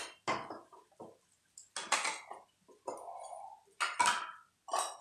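A mixer grinder jar being picked up and set down, giving several separate clinks and knocks of metal and utensils, close by and sharp, with short pauses between them and no talking.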